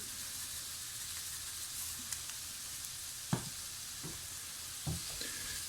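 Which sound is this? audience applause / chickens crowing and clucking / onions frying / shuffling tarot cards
onions frying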